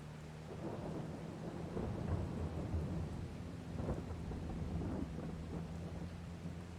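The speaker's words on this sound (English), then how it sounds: "Plowing in the pouring rain." Thunder and pouring rain in the Farming Simulator video game during field plowing, a steady heavy rain wash with deep rolling rumbles of thunder swelling and fading, loud and continuous with no talking.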